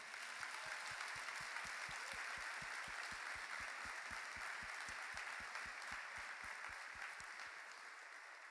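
Sustained applause from a church congregation, a dense wash of many hands clapping steadily for several seconds, even in loudness and easing off slightly at the end, with no speech over it.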